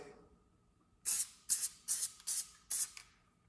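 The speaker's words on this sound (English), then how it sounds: "I always let it sit for a second once I spray it" Five short bursts of hissing spray from a spray adhesive aerosol can, evenly spaced, close by in a quiet room.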